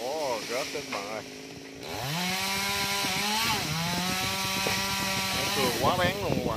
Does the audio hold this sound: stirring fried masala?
no